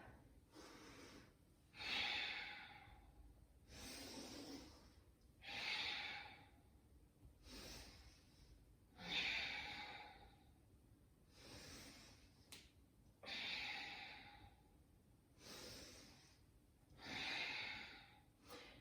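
Heavy rhythmic breathing during power yoga push-ups, six slow cycles of forceful exhales and inhales through the nose, close and fairly quiet, with no talking.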